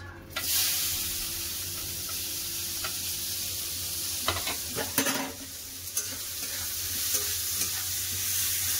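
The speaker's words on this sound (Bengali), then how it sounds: "ফোড়নে দিয়ে দেবো একটা শুকনো লঙ্কা, দুটা তেজপাতা দিয়ে দেবো, কুচানো পেঁয়াজ।" Dried red chilli, bay leaves and chopped onion hitting hot oil for tempering, giving a loud continuous sizzle with bursts of spattering and spoon stirring clatter partway through, no talking.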